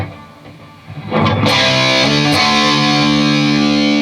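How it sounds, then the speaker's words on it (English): A heavily distorted electric guitar enters after a quiet moment, a C5 power chord ringing out loud and sustained with thick, saturated tone. "The distortion kicks in."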